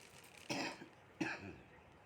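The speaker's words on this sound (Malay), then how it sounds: "dan batuk ini" Two short, harsh coughs, the first at about half a second and the second a moment later, close up with quiet room tone between.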